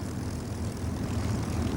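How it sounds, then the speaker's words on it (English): A P-51 Mustang fighter's propeller engine drones steadily and fairly loud, a constant low rumbling roar with no voices over it. "All of a sudden, this new airplane appeared on the scene, the P-51."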